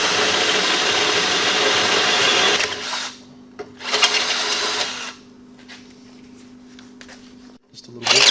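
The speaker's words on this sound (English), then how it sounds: "we're going to drill this out to a 1/2 inch hole for the switch to mount" A power drill boring a half-inch hole for an air-ride suspension switch mount, a loud whirring burst that stops, then a second short run followed by quieter mechanical clicks and a final brief spin.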